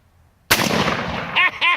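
A single-shot 10 gauge shotgun fires one sudden, very loud blast at close range. Its boom decays over about a second, followed by short vocal sounds.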